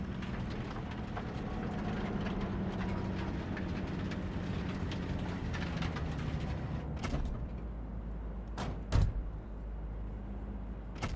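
A train in the video game Cyberpunk 2077 rumbles along with a steady low mechanical drone and rattling, then a few sharp metallic clanks and thuds near the end.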